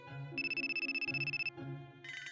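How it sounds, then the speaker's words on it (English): A telephone rings with a bright electronic trill, two bursts of rapid pulsing tone separated by a short gap, close and clear with no talk, then a brief higher chime at the end. "A phone call?"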